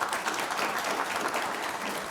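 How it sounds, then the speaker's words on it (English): Steady, dense applause from a sizable audience, loud and sustained for a couple of seconds with no break. "Give them a round of applause."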